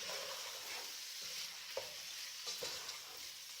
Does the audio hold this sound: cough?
no